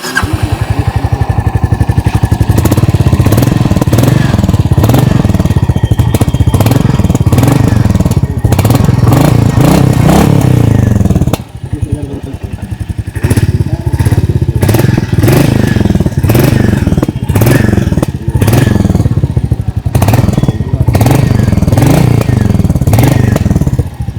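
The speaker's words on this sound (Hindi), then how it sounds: "आइए अभी सुन लेते हैं इस बाइक की एग्जॉस्ट नोट।" A 2025 Royal Enfield Meteor 350 in Stellar Blue, its single-cylinder exhaust thumping loudly up close, revved repeatedly with rising and falling pitch and a brief dip mid-way, no talk over it.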